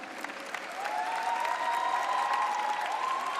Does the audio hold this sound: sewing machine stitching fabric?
no